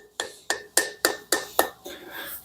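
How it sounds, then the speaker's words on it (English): A hammer taps a cam plug into a Subaru EJ25 engine in six crisp, evenly spaced metallic strikes with a slight ring, close up, followed by a brief softer rubbing sound. "Use a hammer to tap that into place."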